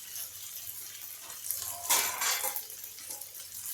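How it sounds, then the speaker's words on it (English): A lid clatters onto a cooking pot with a brief metallic clank, heard after some quiet kitchen rustling of potatoes being salted and spiced. "Put lid on it"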